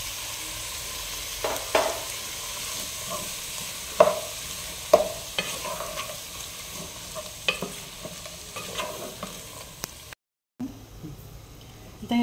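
Tomatoes fry in a pan for chicken khichdi, a steady soft sizzle broken by scattered stirring knocks and scrapes, close and moderately loud with no talk.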